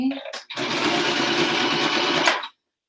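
A sewing machine stitches through pinned fabric made from an old t-shirt, a fast, steady whirring rattle of about two seconds, with a brief voice just before the machine starts.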